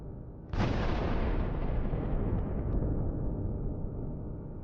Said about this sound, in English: This leads to a massive explosion.